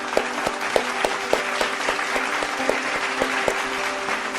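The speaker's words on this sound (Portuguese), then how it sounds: "Salve de palmas, Vaguinho." An audience applauds at a talk or commentary event, with a steady wash of clapping and a few sharper, louder claps standing out at regular intervals.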